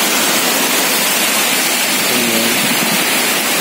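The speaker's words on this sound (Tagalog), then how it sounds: "Masyadong madilim sa labas pero malakas talaga yung hangin." Typhoon wind and rain in the dark night in Camarines Sur form a loud, dense, steady roar that fills the scene, with a single short word spoken over it.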